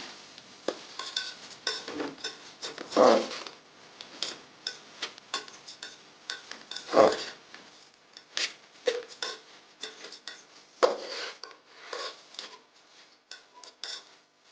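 A spoon stirs washed rice, peas and potatoes into spices in a cooking pan for aloo matar pulao, with close, repeated clinks and scrapes against the metal in an uneven rhythm.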